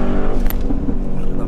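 A Brabus G800 accelerates hard at full throttle, its loud, close engine roaring steadily with the tires struggling for traction.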